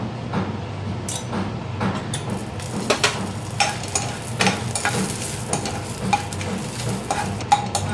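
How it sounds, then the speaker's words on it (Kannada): Dry red chillies frying in oil in a pan for a pumpkin sambar, with a steady close sizzle broken by frequent sharp stirring scrapes and clicks, no voices. "ಒಣಮೆಣಸಿನ್ಕಾಯಿ ನಾನಿಲ್ಲಿ ಎಣ್ಣೆ ಹಾಕಿರ್ಕೊತಿದ್ದೀನಿ"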